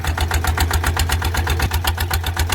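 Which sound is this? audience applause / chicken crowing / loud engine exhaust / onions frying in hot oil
loud engine exhaust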